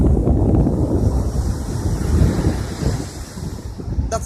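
Wind and sea waves at the shore, a steady broadband roar of surf with gusty microphone buffeting, continuous and fairly loud with no voices.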